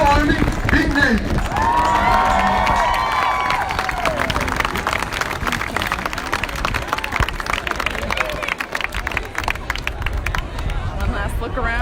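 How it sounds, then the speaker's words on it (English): A large outdoor crowd at a West Point parade applauds and cheers parachute jumpers, a dense sustained wash of clapping with crowd babble and a brief whistle-like tone early on. "Let's give our jumpers another round of applause for a job well done"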